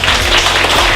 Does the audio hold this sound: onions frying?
no